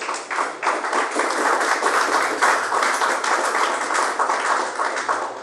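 A church congregation applauds together in a dense, steady burst of clapping that fills the room for several seconds without a break.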